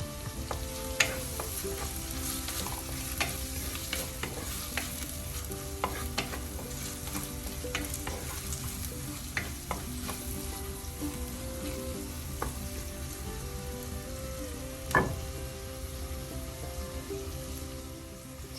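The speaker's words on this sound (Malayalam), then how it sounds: "സ്റ്റൗ ചെറിയ സിമ്മിലാക്കി അടച്ചു വെച്ച് കുറച്ച് നേരം നമുക്ക് വഴറ്റാം" Spices and curry leaves sauté in a pan for a Kerala fish curry, giving a continuous oily sizzle with occasional scrapes of a stirring spoon and one louder clatter near the end.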